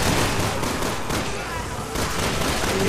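Gunfire in the video game Resident Evil 6, fired in a cramped space: bursts of rapid shots run under a player talking, with a short dip in the middle.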